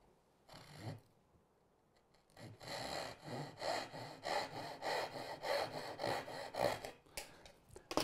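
A hand saw cuts off the tail shoulders on a Shaker lap desk, starting with a brief stroke, then after a pause a steady run of rhythmic rasping push-pull strokes, close and clear, with no voices.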